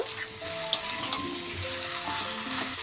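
Mutton and potatoes sizzling in a pan as liquid is added, a close steady hiss with a clatter of utensil scrapes and taps over a faint tonal hum, no talk.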